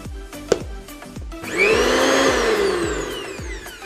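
A mixer grinder motor starts after a few sharp knocks, then winds up into a loud, close, steady whine that holds and slowly fades near the end.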